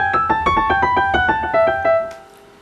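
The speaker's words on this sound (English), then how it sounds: "This piano part was recorded about 800 miles away." A recorded piano part plays a quick run of distinct, evenly spaced notes, each struck clearly and close, with the last note ringing out and fading alone.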